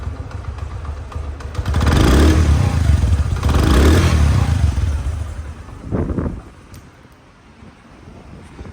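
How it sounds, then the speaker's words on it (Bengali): A Honda CD 80 motorcycle engine running close by, rising to a loud rough rumble for a few seconds, briefly revving again, then settling to a quieter idle, with no talk. "সাউন্ড আছে দেখেন তো রানিং অবস্থা কিন্তু আছে রানিং অবস্থা"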